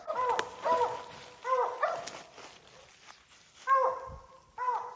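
Several hunting dogs bark at a bear treed beside a road, in short bursts outdoors, some distant, with pauses between volleys of barking.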